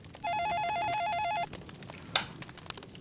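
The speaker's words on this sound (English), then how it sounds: "Oh my gosh, that was genuinely our phone." An old home telephone rings with a steady electronic warble lasting about a second, followed by a sharp click and some faint rustling in a quiet room.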